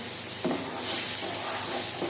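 Hot tadka with green chillies is poured into saag, giving a steady, close hiss of sizzling with a brief stirring clatter and no talk.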